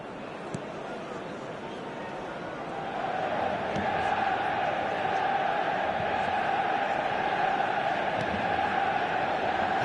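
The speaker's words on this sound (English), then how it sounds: "it certainly got the crowd going" A football stadium crowd roars in a broad, sustained wash of noise that swells partway through and keeps building, distant and enveloping.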